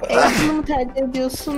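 A single sharp sneeze bursts out near the start, loud and close, followed by casual talk among players during a livestreamed group game session.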